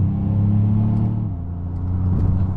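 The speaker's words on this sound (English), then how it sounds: "will pop it into the Lobo mode just for a second to get a quick acceleration so you guys can see how aggressive this is in Lobo mode" A 2025 Ford Maverick Lobo pickup in Lobo mode accelerating onto a highway, a loud steady engine drone and road rumble from inside the cabin, with a slight shift in pitch midway as it pulls through the gears.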